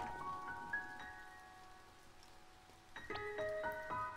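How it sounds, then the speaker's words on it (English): Soft rain patters steadily in the video game To the Moon, beneath gentle tonal chimes. "Yes, in the rain."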